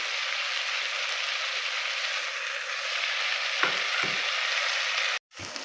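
Peeled potatoes frying in hot oil in a pot, a steady close sizzle with a couple of soft knocks near the end and a brief cut before the hiss returns.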